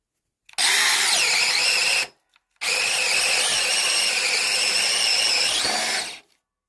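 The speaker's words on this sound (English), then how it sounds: "let's see what this DCD 709 subcompact is capable of. 7/8 speed bore." A DeWalt DCD709 subcompact cordless drill bores a 7/8 inch speed-bore hole, two loud, close whining bursts of high motor and bit noise, the second longer, with a short pause between and no talk.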